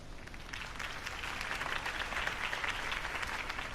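Crowd applause rises and swells at a political campaign rally for Harvey Dent in the Batman Telltale Series game, a dense wash of many hands clapping, moderately loud and sustained.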